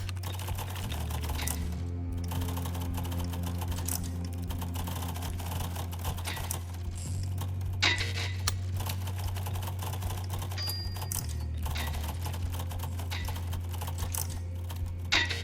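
Rapid keystrokes clatter on a computer keyboard during a typing test, a continuous quick patter close up, with a low steady hum underneath and no speech.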